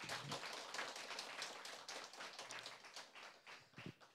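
A church congregation claps together after a prayer. The applause is dense and quick, moderately near but fairly quiet, and carries on for a few seconds before thinning into scattered claps.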